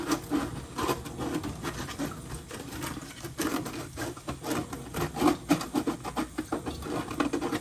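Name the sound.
rubbing salt off a Lexan RC car body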